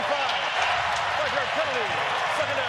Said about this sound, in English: The crowd noise is starting to take effect